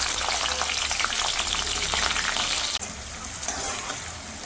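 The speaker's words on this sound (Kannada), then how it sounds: "ಇದು ಚೆನ್ನಾಗಿ ಫ್ರೈ ಆಗಬೇಕು." Mustard seeds and peanuts fry in hot oil in a pan with a steady, bright crackling sizzle, briefly stirred, quieting slightly after a sudden clink partway through.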